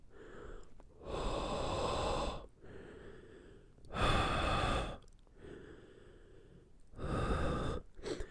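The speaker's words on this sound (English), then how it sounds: "let's see how it performs when I breathe" Three long, heavy exhalations inside a motorcycle helmet with a Pinlock anti-fog visor, each a loud close breathy rush lasting about a second, separated by quieter inhales, with no talking.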